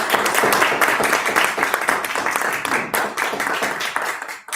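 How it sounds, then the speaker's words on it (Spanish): Audience applause for a guest speaker, Maestro Rubén, at a design seminar: a dense, steady patter of many hands clapping throughout, fairly close, with a few loud claps standing out near the end. "ahora sí vamos a dar un aplauso, por favor, al maestro Rubén"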